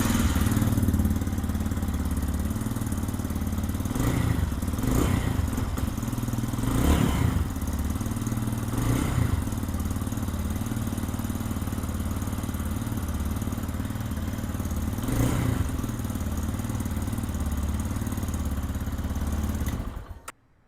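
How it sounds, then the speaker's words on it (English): A 2024 Lifan KPX 250 dual-sport motorcycle engine starts and runs steadily at close range, a loud continuous idle with a few brief revving swells, with no talking, until it cuts off at the very end. "now we'll start it. Now it's got a little bit of air in the system, so it might run bad for a little bit."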